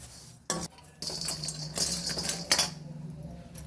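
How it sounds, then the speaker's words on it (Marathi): Whole spices, including kasuri methi, poppy seeds and bay leaves, dry-roasted over low heat in a pan for homemade red chilli powder, giving a few sharp scraping clinks of a utensil against the metal followed by steady rattling stirring. "खडा मसाला सगळा भाजून घ्यायचा मंदाच्यावरती"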